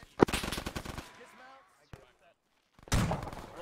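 Machine gun fire in the video game Arma 3 comes as rapid bursts of shots, a long rattling burst at the start, a single sharp crack in the middle and another burst near the end, with a voice talking between them.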